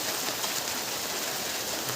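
Steady, dense village rain hisses evenly throughout, a constant wash of drops with no breaks or other sounds.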